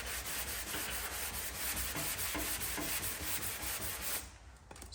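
Hand sanding of black epoxy, a close, steady rasping rub in repeated strokes that stops abruptly near the end.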